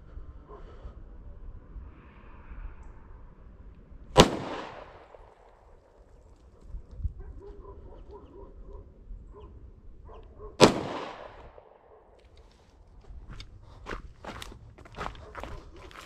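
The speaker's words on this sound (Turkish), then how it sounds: "Tekrar atış yapacağım." Canik pistol shots fired at shooting practice, two sharp loud cracks several seconds apart with short ringing tails, among quiet shuffling and handling noises and a few faint thuds near the end.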